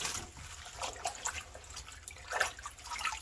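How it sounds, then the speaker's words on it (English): Mustard greens dipped and rinsed in water to wash off dirt: close splashing and dripping in short bursts, moderately quiet. "that's all you're doing, is just rinsing a little bit of dirt off"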